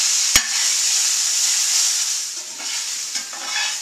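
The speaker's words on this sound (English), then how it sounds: "I'm adding some fresh greens to it." Fresh greens hiss in a hot pan as a steady, close sizzle, with a sharp clack at the start and a few soft stirring scrapes later on.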